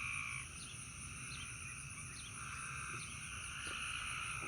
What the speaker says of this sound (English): Some of them are just regular frogs in the pond. They're loud.